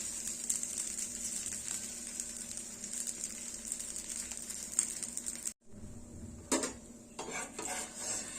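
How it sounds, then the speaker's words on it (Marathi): A rice flour uttapam roasts on a pan with a steady, faint, hissing sizzle, spatula and pan clinks breaking through, and a brief dip partway before the frying resumes. "मस्त दोन्ही बाजूने मस्त असा खरपूस उत्तप आपल्याला भाजून घ्यायचा आहे"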